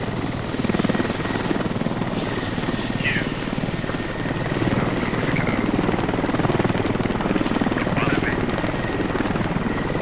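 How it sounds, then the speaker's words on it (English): A helicopter's rotor in the video game Squad chops steadily in the background, continuous and fairly distant, with people talking over it and occasional electronic chirps. "helicopter is shooting you."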